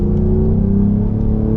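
A 2026 Cadillac CT5-V engine revs loudly and close in sport mode, a steady throaty drone with the pitch climbing gradually, no voices.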